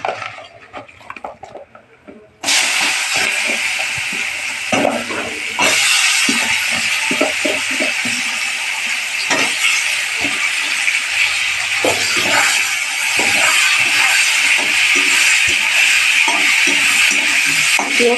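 Onions fry in a pan with a steady, loud hiss and sizzle that starts abruptly and carries on, broken by scattered clinks and scrapes of stirring. No one talks.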